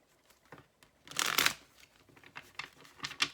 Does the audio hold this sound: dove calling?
no